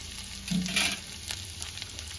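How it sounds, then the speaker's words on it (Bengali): Garlic paste frying in butter in a pan, a continuous close sizzle with a brief scrape or two of stirring partway through, no voices. "রসুনটা বাটারের সাথে ভালো করে কষে গেছে।"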